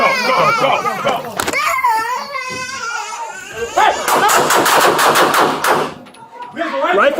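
Police open fire during an officer-involved shooting at a Los Angeles residence: a rapid string of loud, close shots crackles out amid urgent shouted voices, with more yelling before and after.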